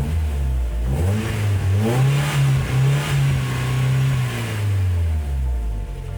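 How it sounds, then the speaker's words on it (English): A Mazda Miata engine runs steadily while warming up, its even mid-pitched hum rising slightly in pitch and then easing back down, close and continuous with no talking. "the engine is close to being warmed up already"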